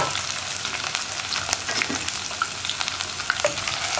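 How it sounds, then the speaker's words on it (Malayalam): Ginger, garlic and green chillies fry in hot oil in a pan for a lemon pickle. A dense, steady sizzle stays close and fairly loud throughout, with faint crackles and stir sounds scattered through it. "ഇതിലേക്ക് തന്നെ നമ്മൾ മുറിച്ച് വെച്ചിരിക്കുന്ന ഇഞ്ചി, വെളുത്തുള്ളി, പച്ചമുളക് ഇതെല്ലാം ചേർക്കുക."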